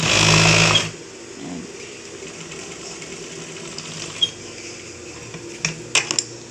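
Sewing machine stitching fabric for a DIY crop top: a loud, steady whirring run in the opening second, then quiet handling with scattered small clicks and taps.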